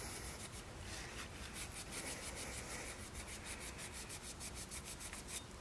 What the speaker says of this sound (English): So you kind of want to buff it.